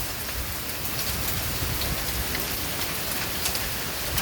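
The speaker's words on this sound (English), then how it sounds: "We're getting hail. You see it bouncing off?" Hail and rain pour steadily onto a porch during a May storm, a dense, constant hiss with scattered sharper ticks of hailstones bouncing, fairly close and without any voices.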